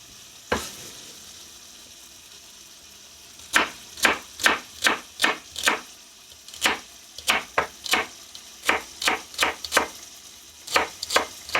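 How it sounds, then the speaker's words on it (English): Celery stalks chopped with a knife on a chopping board while making tailgate chili: one sharp strike, a short pause, then a steady run of crisp, close knife hits against the board, with no talk. "Now we're chopping up a couple celery stalks."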